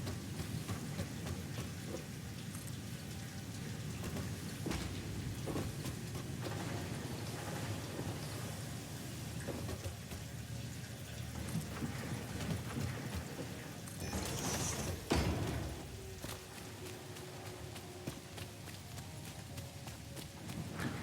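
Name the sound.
rain falling in the video game Satisfactory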